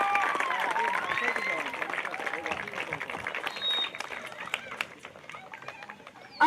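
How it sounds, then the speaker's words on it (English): Applause and crowd noise at a youth football tournament celebration, fairly quiet and distant, with scattered clapping mixed into a murmur of chatter and occasional excited voices. "Let's begin the celebration with a huge round of applause for all the teams who took part in the International Cup of Joy"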